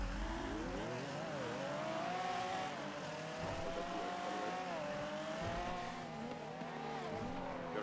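Sports car in the NoPixel video game, revving and accelerating hard after a clutch drop, its engine note rising and shifting steadily in pitch with some tire noise and no break across the whole stretch.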